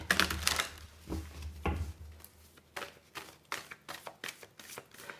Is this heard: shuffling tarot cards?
yes